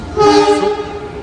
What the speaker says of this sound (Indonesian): Ini ada kereta api Bengawan